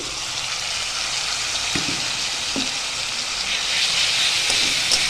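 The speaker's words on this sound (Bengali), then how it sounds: "ভালো করে তেলের মধ্যে ভেজে নেব" Tomato paste fries in oil with salt and turmeric, giving a steady, close sizzling hiss throughout with a few soft stirring knocks in the pan.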